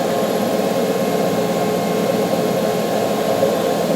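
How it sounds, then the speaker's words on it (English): A 1998 Okuma MX 45VBE vertical machining center spindle runs steadily at 500 RPM, giving a continuous, even mechanical whir with no speech. "first we're going to start by running the spindle. This is at 500 RPMs."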